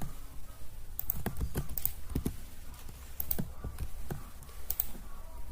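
Computer keyboard keys clack in uneven bursts of quick taps with short pauses, close and crisp, while code is copy-pasted; no talking.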